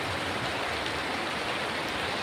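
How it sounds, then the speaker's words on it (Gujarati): Steady monsoon rain falls continuously in Banaskantha, Gujarat, a dense even hiss with no voices, close and moderately loud. "અમારે પણ ચાલુ છે હાલનો વરસાદ"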